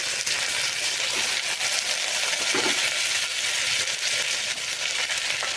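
Chopped tomato drops into onions frying in a pan, the steady loud sizzle briefly flaring and crackling as it lands and is stirred, with no voices.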